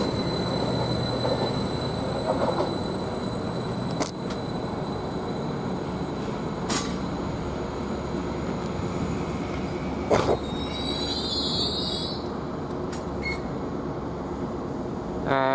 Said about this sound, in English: got the LNER come through here, coming very early actually